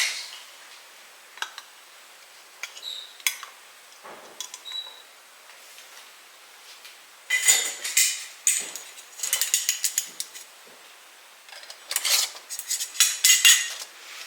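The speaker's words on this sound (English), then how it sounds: "I'll get these lids on, we'll get them in the canner" Metal lids and bands clink and scrape onto glass canning jars filled with hot mango salsa, with sparse taps at first and then dense bursts of rattling and clattering close up.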